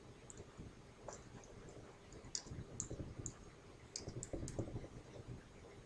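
A date being typed on a computer keyboard: a few quiet, close key clicks in a short irregular burst, with slightly denser tapping near the end and no talk.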